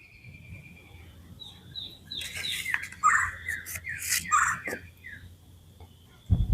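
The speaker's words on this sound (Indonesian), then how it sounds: "Enak banget ditemani oleh suara burung-burung yang chirping" Birds chirp and call outdoors in a home garden, a run of bright, overlapping tweets fairly close by over a quiet background, ending in a sudden low thump.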